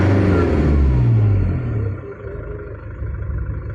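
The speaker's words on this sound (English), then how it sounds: "if I press a little bit of rev, you can see it is responding so well" A Toyota Hiace turbo engine with a faulty turbo controller, revved once in a loud, close burst that drops back to a low idle rumble.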